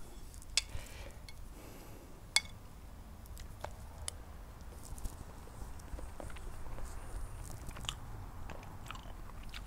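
Quiet chewing and crunching from someone eating fried rice outdoors on a veranda, with a few sharp clicks and soft bites over a steady low background.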